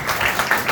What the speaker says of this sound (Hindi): तो एक बार जोरदार तालियां बजाएं।